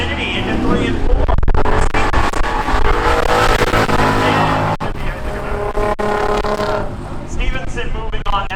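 A Camaro and an Infiniti drag racing at Seekonk Speedway, engines roaring loud and continuous throughout, overlaid by a race announcer talking over the track noise.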